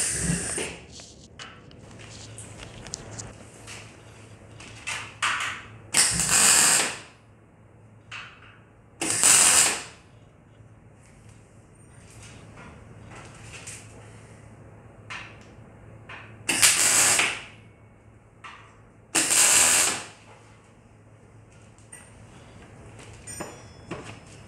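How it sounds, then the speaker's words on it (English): Tack welds join a steel tube to a Ford GT40 replica chassis, heard as four short, loud bursts of crackling hiss separated by quieter workshop pauses. "Tack that tube in."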